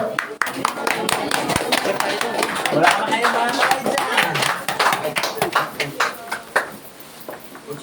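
Audience clapping at a team training kickoff gathering, scattered hand claps rising and falling across the room, with a voice talking over the applause throughout.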